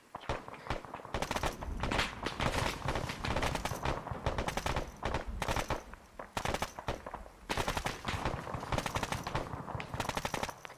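Sustained gunfire in Arma 3 combat: rapid, overlapping machine-gun bursts and rifle shots, fairly quiet overall but dense and continuous, with brief lulls between volleys.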